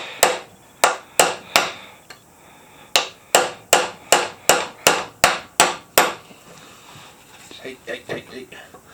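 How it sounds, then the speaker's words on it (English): A hammer pounds steadily at an old wooden board fitted with a hinge, working nails loose; about a dozen sharp, loud, evenly spaced blows come first, then lighter prying scrapes and softer taps. "just pull the nail to pull that hinge so we can cut the piece of wood"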